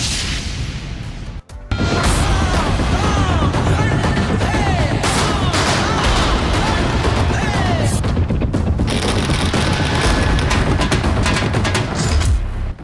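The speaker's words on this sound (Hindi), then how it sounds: "पीड़िता के घर के बाहर आतिशबाजी।" Dense, continuous crackling and popping bursts from fireworks set off in celebration outside a house, loud and sustained with overlapping bangs and sharp cracks throughout, after a brief dip near the start.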